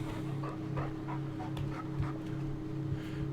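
A dog in the Farming Simulator 19 video game pants steadily in quick rhythmic breaths with a soft whimpering edge, close and continuous over a low constant game hum.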